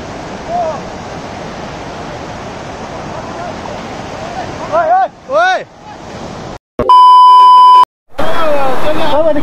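Rushing river water in Nuwakot, Nepal: a loud, constant roar through most of the stretch, with voices calling out over it and a brief break filled by a steady electronic tone.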